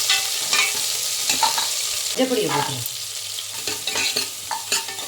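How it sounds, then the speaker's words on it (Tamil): Onions sizzle in hot oil while being stirred and sautéed in a pan for tomato kurma, with scraping spoon strokes and a brief voice speaking over the steady frying. "நல்லா வதக்கிட்டேன்"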